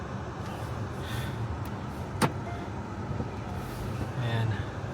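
A car engine idles steadily while warming up in heavy snow, a low continuous rumble under occasional talk, with a brief sharp click partway through.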